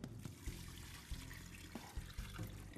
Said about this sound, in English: And then we're going to add about a quart of water.